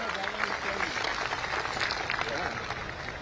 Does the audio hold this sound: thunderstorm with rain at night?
no